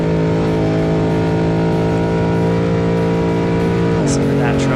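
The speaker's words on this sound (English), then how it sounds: "Listen to that truck singing along." Baja off-road race truck at speed in the 2024 Legacy Baja Nevada race, engine droning steadily and loudly with a sustained harmonic tone that drops in pitch on a gear change near the end.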